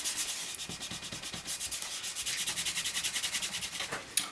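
A cloth rubs Canova cream into a leather knife sheath for an F1 style bushcraft knife, a steady rhythmic back-and-forth scrubbing of quick even strokes, close and fairly soft, with no talking.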